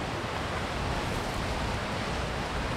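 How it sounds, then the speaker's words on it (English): Ocean waves crash against a cliff's edge on a small island in Japan. The roar is loud, continuous and close, with wind-like rushing and no voices. "The sounds of the waves crashing against the cliff's edge is just so relaxing."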